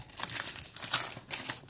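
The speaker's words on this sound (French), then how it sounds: "Alors c'est le papier qui fait du bruit" Crinkly paper wrapping rustling close up while a small 30 by 30 cm canvas is unboxed, in several quick bursts of crumpling, with no talking.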